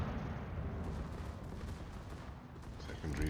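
Secondary battery guns on the Tier X battleship Schlieffen in World of Warships, a dense continuous rumble of rapid booming fire rolling on without pause.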